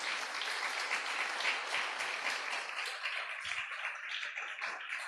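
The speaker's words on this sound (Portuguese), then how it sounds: "Um aplauso a Jesus." A church congregation breaks into applause, lively clapping with a few sharper individual claps standing out, gradually thinning toward the end.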